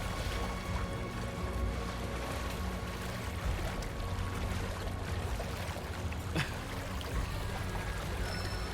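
Water in the Final Fantasy VII Rebirth game world pours and laps steadily with a dense, continuous wash, close and even throughout, with one brief brighter splash near the end.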